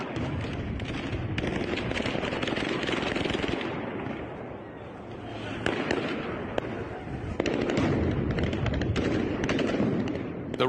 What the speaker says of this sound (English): Russian troops used gunfire and stun grenades to break up Ukrainian protesters